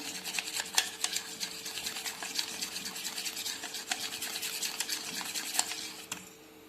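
Dhokla batter stirred briskly in a bowl to work out the lumps, giving quick repeated scraping clicks against the container at close range, alone without voices, stopping just before the end.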